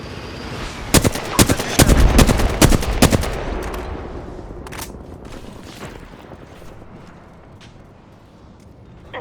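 Rapid bursts of video game gunfire crackle loudly in the opening seconds, then thin out into scattered single shots and softer rattling over a dull background.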